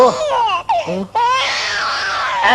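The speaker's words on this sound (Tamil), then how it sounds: "அண்ணே, குழந்தை அழுகுது." A baby cries loudly and close by in wavering, breathy wails broken by short gasps, with no voices over the crying.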